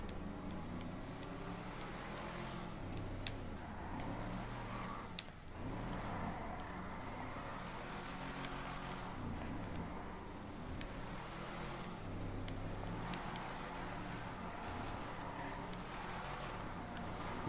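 Dodge Ram engine drifting in GTA 5, a continuous loud engine drone that rises and falls in repeated revving sweeps as the truck slides.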